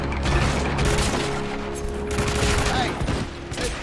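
Gunfire at a shooting range in the video game Hitman Absolution, a dense run of rapid shots and bursts with mechanical clatter, loud and continuous throughout.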